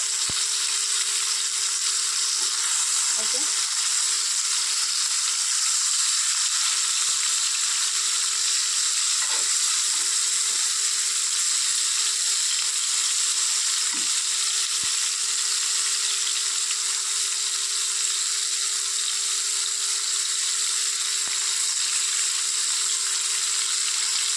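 Lotte fish frying in a pan gives a steady, even hiss of oil with a few faint clicks, continuous and alone.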